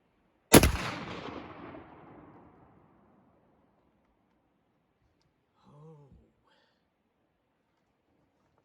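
A Spanish Lanber shotgun fires a single Federal slug outdoors, one loud sharp blast with a decaying echo, followed by a faint brief voice.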